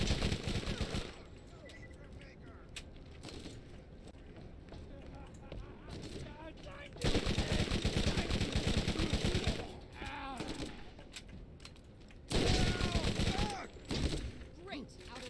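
Shotgun blasts in the video game Borderlands, loud bursts of gunfire in bands amid game noise, with someone talking over parts of it.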